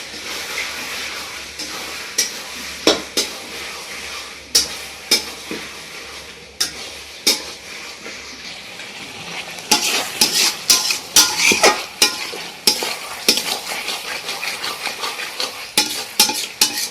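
Chicken with tomato and green chillies is stirred in a pan, with a soft sizzle underneath and a spatula scraping and knocking at irregular intervals, growing busier and more rapid in the second half.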